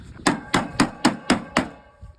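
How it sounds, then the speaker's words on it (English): Six loud, close, evenly spaced blows pound on an air conditioner unit being broken apart without removing screws, each hit sharp and ringing briefly before the sequence stops. "It's a jackhammer."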